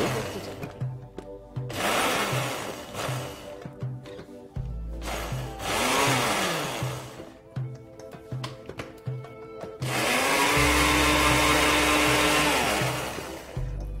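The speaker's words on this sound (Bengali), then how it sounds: "আমাদের এটা ব্লেন্ড হয়ে গেল" A blender whirs loudly in several bursts blending a Roohafza drink, its motor pitch rising and falling as it runs, stops and starts again.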